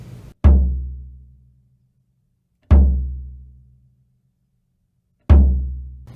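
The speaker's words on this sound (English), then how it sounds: "I use a felt strip on my bass drum batter head." Three loud, deep bass drum hits spaced a couple of seconds apart, each a thudding boom with a short controlled decay, the batter head muffled by a felt strip in a jazz-style kit.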